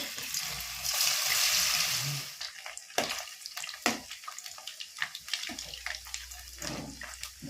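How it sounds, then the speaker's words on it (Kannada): Paneer frying in about four tablespoons of oil in a pan gives a close hissing sizzle for the first few seconds, then thins into scattered crackles and light clatter with no talking. "ಜಸ್ಟ್ ಬ್ರೌನ್ ಕಲರ್ ಬರೋವರೆಗೂ ಎಣ್ಣೆಯಲ್ಲಿ ಫ್ರೈ ಮಾಡ್ಕೊಳ್ಳೋಣ."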